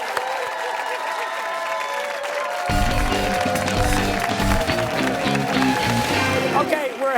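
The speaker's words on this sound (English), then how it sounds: "Applause, applause." A studio audience at a high school quiz show breaks into steady, loud clapping that swells and carries on without pause, with a little cheering mixed in.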